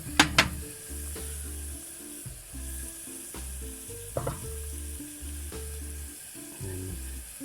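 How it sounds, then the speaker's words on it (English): Oil crackles and sizzles steadily in a hot pan being heated to cook steak. Two sharp clicks open the sound, then a continuous low frying hiss runs throughout with faint intermittent knocks, moderately quiet and close, with no voices. "We're just going to add about a tablespoon of oil in there."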